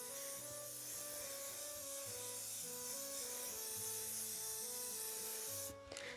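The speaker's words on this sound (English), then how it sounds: "So I'm going to spray from over here." An aerosol can of spray primer hisses steadily while coating painted miniatures, with soft background music underneath. The hiss stays even and continuous before cutting off abruptly near the end.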